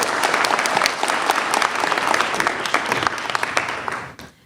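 Audience at a Democratic debate in Tracy, California, breaking into sustained clapping and applause, dense and fairly close, fading out at the end.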